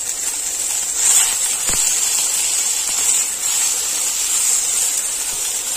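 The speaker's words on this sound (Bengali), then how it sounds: "মাছ ভাজাও কিন্তু প্রায় হয়ে এসছে" Lata fish frying in hot oil in a village kitchen, making a continuous bright sizzling hiss that swells and eases slightly throughout, with no talk.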